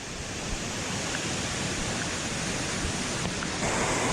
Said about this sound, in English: A freshwater waterfall in Hawaii.